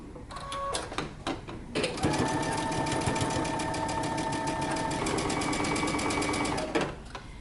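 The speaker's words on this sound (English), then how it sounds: "now I'm going to sew very close to that edge." A sewing machine stitches close to the edge of a narrow curved dress hem, its steady mechanical whir running loud and continuous for several seconds after a few short starts and stops.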